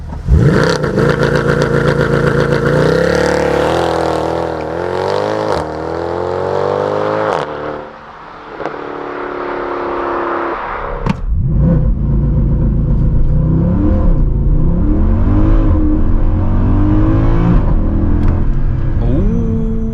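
Mercedes C63 AMG with a 6.2 V8 making 487 hp launching from launch control, a loud close engine roar climbing through gears with shift breaks, then steady hard acceleration.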